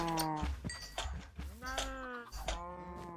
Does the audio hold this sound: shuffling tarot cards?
no